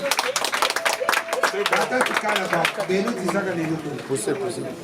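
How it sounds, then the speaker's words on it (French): Guests at a customary wedding in Brazzaville clap in a lively, uneven patter, with chatter and talking voices running through the applause. "On applaudit."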